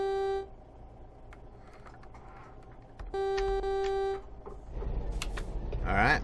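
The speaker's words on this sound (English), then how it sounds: "You honk at me, I honk at you." A truck horn in American Truck Simulator blares in two long sustained honks separated by a pause, loud and close over engine rumble, with someone talking.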